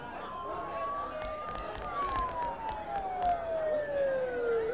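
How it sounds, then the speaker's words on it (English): Sirens wail nearby in the video game Persona 4, one long falling tone sweeping down steadily under soft background noise and faint crackles. "Don't those sirens sound really close?"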